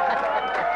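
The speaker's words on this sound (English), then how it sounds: "The guys are clapping." Studio audience at a televised comedy panel show clapping in a steady, dense wash of applause, fairly close and continuous with no voices over it.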